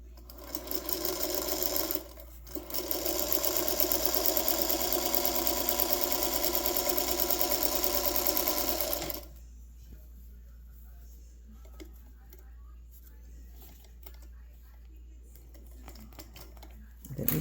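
A Featherweight sewing machine stitches steadily in a loud, even run of about seven seconds with a short pause near the start, then stops, leaving faint rustling and handling noises.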